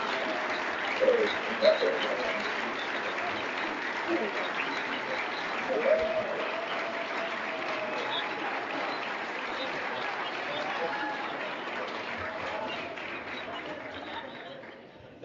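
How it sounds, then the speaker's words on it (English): Steady audience applause at a white coat ceremony for the class of 2028, a broad wash of clapping held at even level throughout, somewhat distant, with a few louder bursts early on. "Let's have one more round of applause."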